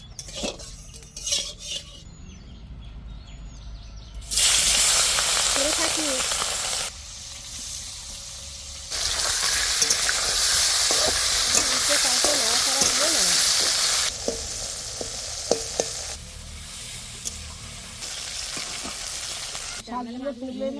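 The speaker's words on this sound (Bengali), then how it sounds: "এই মাছগুলো তেলের উপর ভাজতে গেলে তেল ছিটে খেয়ে" Tangra fish frying in hot oil in a home kitchen produces loud, steady sizzling and spitting that swells in long bursts, interrupted by clinks of utensils and pans, with a brief voice near the start.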